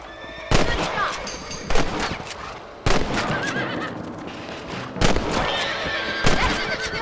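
Rifle shots ring out during a rabbit hunt in Red Dead Redemption, several sharp cracks spaced a second or two apart, mixed with a horse's whinnies and clopping hooves on open ground.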